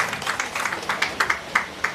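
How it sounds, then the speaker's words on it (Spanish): Applause at a carnival monarchs' handover ceremony, a thin scattered patter of hands clapping in uneven rhythm, moderately distant and fairly quiet, with no talking. "Fuerte aplauso."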